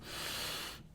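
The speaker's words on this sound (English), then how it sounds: "When I make that big inhale," A single big inhale drawn sharply through the nose, a close breathy rush lasting under a second.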